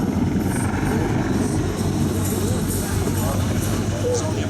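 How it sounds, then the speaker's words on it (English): Apache attack helicopter flying a display maneuver at an Armed Forces Day show in Stirling, a loud continuous rotor and engine roar filling the whole stretch, with a voice talking over it. "This maneuver highlights why helicopters, especially Apache, are so dynamic."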